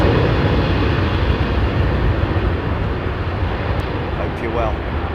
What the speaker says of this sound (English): Heathrow Airport in the house.